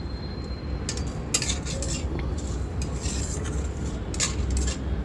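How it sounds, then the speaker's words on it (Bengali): Lentils are stirred and dry-roasted in a dry wok, making a steady granular scraping and rustling, with several brighter clinks from the utensil against the pan. "ডালটা শুকনো কড়াইয়ে প্রথমে ভালো করে ভেজে নিলাম"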